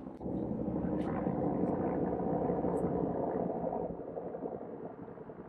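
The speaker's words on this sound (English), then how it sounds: "There's a helicopter like all the time." Steady broadband rumble of a helicopter flying overhead, loud and constant throughout, easing off slightly toward the end.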